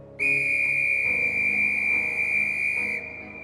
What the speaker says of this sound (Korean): 삐익 하는 소리가 내리는 눈을 뚫고 마을 전체에 울렸다.